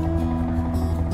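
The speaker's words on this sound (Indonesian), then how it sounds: "Kita telusuri pakai motor" A motorbike rides along a pine forest trail, its engine a steady low droning hum with a slight pulsing texture, continuous and close.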